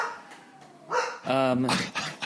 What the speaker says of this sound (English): It sounds like your dog's barking.